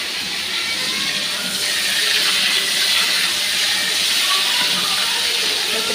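Shrimp frying in a pan, a loud, steady sizzling hiss of hot oil that holds without a break.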